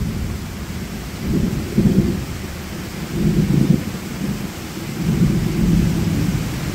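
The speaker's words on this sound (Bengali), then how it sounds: "তো একটু বৃষ্টি দেখেন, উপভোগ করেন, আর কিভাবে বিদ্যুৎ চমকায়" Thunder rolling over a rainy Bangladeshi village, three low rumbles swelling and fading in turn over a constant wash of falling rain, fairly close and loud.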